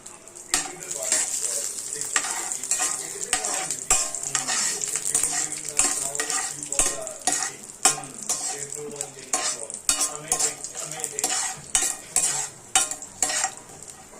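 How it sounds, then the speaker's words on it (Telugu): Almonds, cashews and raisins fry in hot ghee with a soft, continuous sizzle, punctuated by frequent sharp clicks of a spoon stirring against the pan, close and fairly quiet. "సో వేడెక్కిన గీలో మనం వేసుకుంటున్నాం బాదం, క్యాష్యూ అండ్ రేసిన్స్ అనమాట."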